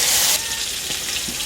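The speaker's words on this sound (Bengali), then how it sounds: "মাছগুলো এক এক করে ভেজে নেব।" Tangra fish, rubbed with salt, turmeric and lemon juice, fried one by one in hot oil in a kadai: a strong sizzle bursts at the start, then settles into a steadier crackling fry.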